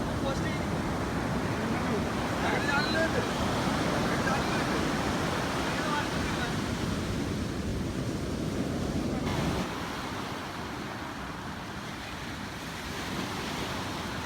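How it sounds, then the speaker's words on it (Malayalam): Big sea waves break and surge onto a fishing beach in a loud, continuous roar with wind buffeting the microphone, easing slightly toward the end. "ഈ വലിയ വലിയ തിരമാലകൾ ഇങ്ങനെ വന്നുകൊണ്ടിരിക്കുന്നതുകൊണ്ടിട്ട് വല വീശാൻ പറ്റില്ല"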